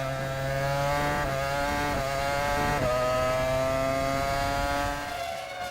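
Formula 1 cars racing at the 2001 Brazilian Grand Prix, a continuous high-pitched engine whine shifting in pitch as cars pass and change gear, steady and loud throughout.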